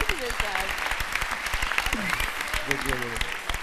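Applause from a TV talk show studio audience with speech and laughter mixed in, clapping steady throughout and voices rising over it.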